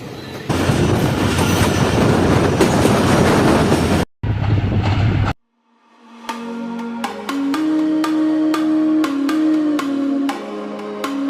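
A Pakistani train with a brake van heads toward Moenjodaro, first a loud close rumbling rattle, then a brief cut-off and a quieter stretch of sharp rhythmic wheel clicks over a steady tonal hum.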